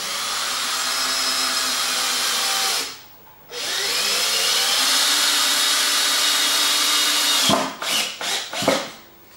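A power screwdriver whirs steadily, driving screws at an angle into a wooden board, pauses briefly, runs again, then ends with several short bursts as the screw seats.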